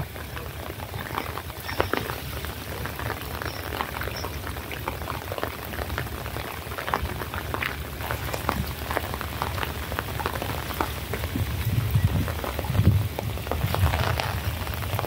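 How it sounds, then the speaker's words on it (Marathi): Heavy rain pours down steadily at a harbour, a dense hiss of drops with scattered splashes and gusting wind rumble throughout, with no voices. "हे पाऊस पण जरा जोरात लागला"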